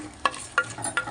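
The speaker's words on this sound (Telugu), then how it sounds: "కలిపేయండి." A spoon stirring vegetable biryani spices (star anise, cardamom, kasuri methi and bay leaves) in a pot, three short close scrapes spaced evenly over a low sizzle.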